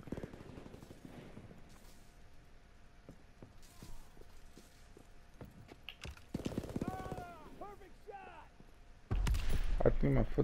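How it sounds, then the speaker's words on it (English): Footsteps in a World War II video game tap out a faint, regular series of steps, with bursts of gunfire and a voice breaking in toward the end. "I think my footsteps can be heard right now."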